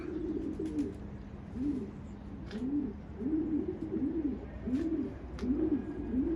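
Pigeon cooing inside an aviary, repeated low rolling coos in a steady rhythm, fairly close, with faint chirps and background noise around.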